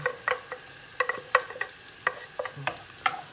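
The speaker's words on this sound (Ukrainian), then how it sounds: "Розмішуємо це все. І хай вони тушаться." Onion, carrot and celery fry in a pan for moussaka, as a utensil scrapes and clinks through the vegetables in quick, irregular strokes over a soft sizzle, close by and with no talking.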